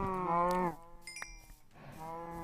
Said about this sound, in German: It's the last moo you ever...